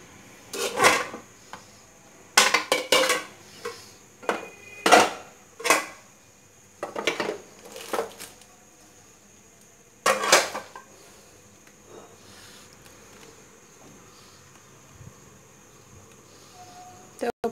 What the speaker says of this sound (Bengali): তো প্যানটা আমি বসিয়ে দিলাম